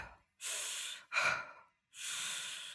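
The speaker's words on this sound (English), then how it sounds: "There's also a cold, breathing sound effect that kicks in when the character steps outside in the winter storm." A video game's cold breathing effect for a character in a winter storm: three long, breathy exhales and inhales follow one another, airy and close, with short silent gaps between them.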